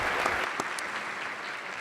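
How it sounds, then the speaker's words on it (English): Conference audience at a state health reform event applauding for DJ, a dense steady wash of many hands clapping at once, even and sustained for the whole stretch with no talk over it. "How about a round of applause for a guy who's helping this industry remain innovative?"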